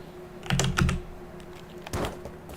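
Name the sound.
typing in a code, from the video game Environmental Station Alpha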